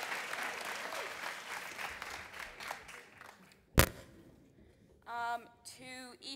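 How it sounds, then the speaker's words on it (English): Audience applause for the media team at a school musical, a lively round of clapping that fades out, followed by a sharp crack and then a person talking. "Can we get a round of applause for them?"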